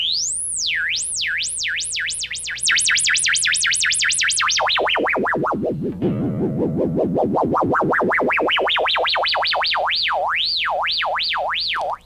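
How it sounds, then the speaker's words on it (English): A Moog Moogerfooger synthesizer tone sweeps smoothly up and down in a sine-wave wobble, speeding up, then diving low before rising and slowing again, loud and continuous. "it goes between a sine wave, this smooth sweeping up and down sound I've had"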